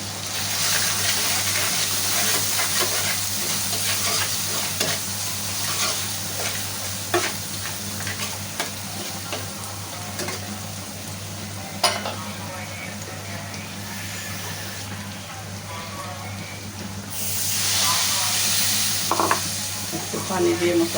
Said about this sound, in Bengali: একটু পানি দিয়ে মশলাটা ভালো করে কষায় নিলাম।